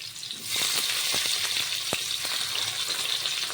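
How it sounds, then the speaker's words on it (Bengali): Chopped onions frying in oil in a wok, a loud, steady hiss of sizzling with scattered clicks and taps of stirring, close by and without talk. "পেঁয়াজটাকে একটু ভেজে নেবো আগে"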